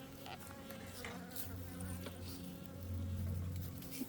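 Honey bees buzz in a dense, droning swarm as they lift off an opened beehive during an inspection at an apiary, close and steady, with faint handling knocks.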